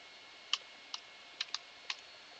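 Keys tapped on a computer keyboard, about six separate soft clicks at an uneven pace over a quiet hiss, with no talking.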